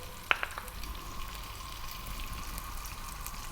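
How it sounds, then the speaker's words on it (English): Onion and hard vegetables such as green beans, carrots and potatoes sizzling in a soup pot, a steady soft frying hiss with a couple of sharp clinks from a utensil against the pot near the start. "We're going to drop in 1 cup of onion, and then I'm going to start to get my hardest vegetables in"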